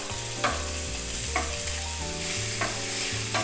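Bacon hits a very hot, smoking pan with a tablespoon of olive oil over high heat, giving a steady frying crackle with a few sharper pops and scraping stirs along the way, close up with no talk.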